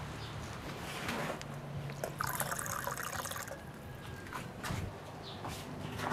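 Water pours into a glass in a modest home, a soft, uneven trickle with faint background noise around it.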